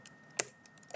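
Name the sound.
typing a tag name on a computer keyboard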